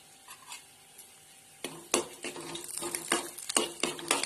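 Dry fruits are sautéed in a pan over a high gas flame as part of making coconut karanji. A spoon scrapes and clinks against the metal pan in irregular strokes over a soft sizzle, close and without speech.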